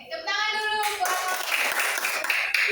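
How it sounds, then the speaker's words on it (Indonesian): Elementary school pupils clapping together in an Indonesian classroom: a steady, dense round of hand claps lasting a few seconds, with a voice chanting or speaking over the start. "Oke, tepuk tangan dulu buat"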